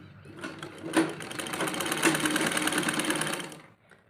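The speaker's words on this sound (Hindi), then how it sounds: "इसके लिए मैं यहाँ पर इन पट्टियों को इस तरह आमने सामने रखकर यहाँ से सिलाई करूँगी।" A sewing machine stitches fabric strips placed face to face for a baby frock, a steady close whir with rapid needle clatter running for several seconds before easing off.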